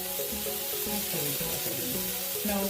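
Onions and peppers frying in a pan for veggie-loaded fried rice, a continuous close sizzle with a few soft stirring scrapes and no talk.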